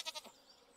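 A goat in the Stardew Valley farming game gives a short, quiet bleat of two quick pulses that fades into faint background sound.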